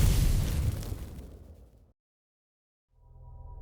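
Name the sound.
explosion in the video game Outer Wilds: Echoes of the Eye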